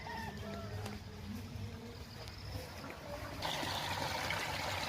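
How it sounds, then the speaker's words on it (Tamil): Water laced with jeevamirtham, a liquid farm fertilizer, trickling and gushing through an irrigation pipe on a farm, a steady wet flow that grows louder and fuller near the end. "பைப்பில் தண்ணி வந்துக்கிட்டு இருக்குது"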